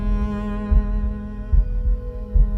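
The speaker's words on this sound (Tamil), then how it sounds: "அவன் ஹார்ட் பீட் மட்டும்தான் கேட்கும்." A heartbeat sound effect in a dubbed suspense thriller: a steady low hum beneath slow, soft thumps recurring roughly every 0.8 seconds, alone with no talk.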